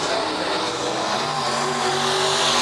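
Factory Stock race cars roar together at the start of a heat at Tulsa Speedway. The engines drone in a dense, steady mass that is loud and continuous, with faint tire noise and an announcer heard under it.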